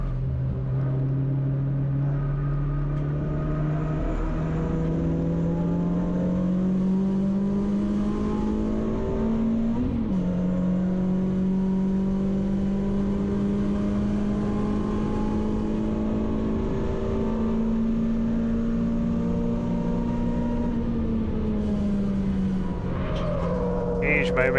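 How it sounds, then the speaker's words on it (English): A Renault Clio 182 racing on track at Silverstone with a BMW close behind, its engine droning loudly and steadily from onboard, rising gradually in pitch, with a brief shift near the middle and a rattle at the end; commentary talks over it. "that menacing looking BMW behind Jack here has made a fantastic recovery drive"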